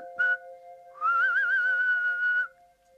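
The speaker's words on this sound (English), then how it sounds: "can you teach me to whistle?" A clear whistled melody with a wavering pitch, held for over a second after a short whistled chirp, bright and close against a quiet steady tone.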